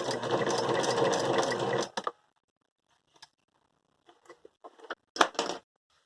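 Sewing machine stitching fast and steadily for about two seconds before stopping, followed by sparse quiet clicks and a short final burst, consistent with a reverse stitch at the end of a seam.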